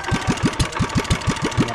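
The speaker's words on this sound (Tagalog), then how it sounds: "Ito ng makina eh." A small engine runs at a steady idle, its rapid, even low thumping pulses close and loud, with no voices over it.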